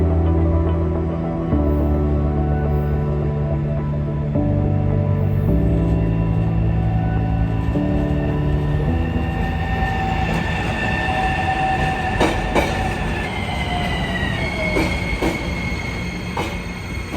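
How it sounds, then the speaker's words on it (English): Miami Metrorail train pulling into a station: a steady rumble and low motor drone build, then wheels clack and squeal as it slows, with brake hiss and screeching tones near the end, alone and fairly close. "Anyways, here it comes."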